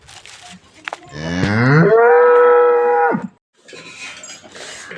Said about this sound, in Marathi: गायांना वाटलं चारा आणायलाच चाललेत ती कशी ओरडू राहिलं